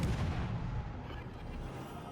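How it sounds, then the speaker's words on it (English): Warship guns firing in World of Warships Legends come through as a low, muffled booming rumble that starts strongest and slowly fades into a distant roll. "But we'll continue to use the guns on him."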